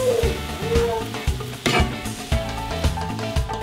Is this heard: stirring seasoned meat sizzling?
yes